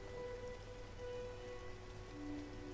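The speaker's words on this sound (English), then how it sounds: "the rain is coming down to cleanse you" Steady, soft rain falls in the Silent Hill 2 Remake game world, an even wash of drops with faint tonal hums underneath and no voices.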